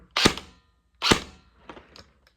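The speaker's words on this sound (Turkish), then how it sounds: "Şimdi bir tekli atışını göstereyim size." Delta Armory AR15 RIS Charlie airsoft rifle dry-firing single shots without a magazine indoors: two sharp, loud snapping pops about a second apart, followed by a fainter double click.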